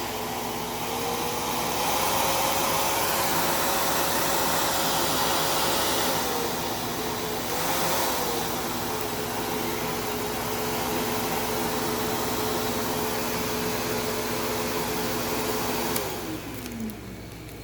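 A Kenmore Progressive vacuum cleaner runs in a living room, a loud steady motor whine with a constant whooshing airflow roar, dipping slightly in pitch partway through, then winding down at the end.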